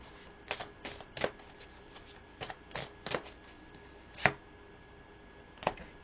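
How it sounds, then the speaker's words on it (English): Tarot cards are shuffled in a quiet room, giving a series of crisp riffling snaps at an uneven rhythm, closely recorded and fairly soft, with no speech. "I want to pull one more card here."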